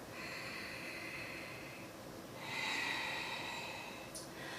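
Slow nasal breathing during a balancing yoga flow, an inhale then a fuller exhale through the nose, close and quiet with no talk.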